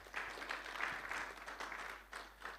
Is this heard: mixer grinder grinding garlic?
no